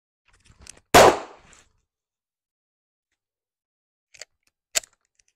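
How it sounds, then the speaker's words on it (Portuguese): A pistol is drawn from a holster and fired once on a hot range, one sharp loud shot with a brief decay, set among a few faint clicks and small handling knocks. "que é sacar e atirar. Sacar, atirar."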